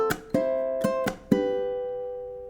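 A ukulele strums a song in a quick rhythm, bright chords broken by sharp percussive muted slaps, ending on a ringing chord that fades out.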